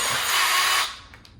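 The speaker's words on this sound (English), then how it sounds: "I'm just kind of running the risk here and using the drill" A power drill drives screws into a TV wall mount with a loud, steady whir that runs for nearly a second, then cuts off abruptly, leaving only faint room noise.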